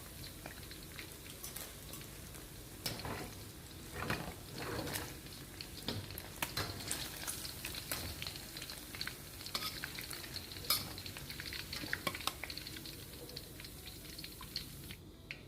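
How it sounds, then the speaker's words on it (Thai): Sesame-coated pork pieces deep-frying in hot oil, with a soft, steady bubbling sizzle punctuated by the clinks and scrapes of stirring and turning. "แล้วก็ทอดส่วนที่เหลือให้หมดเลย"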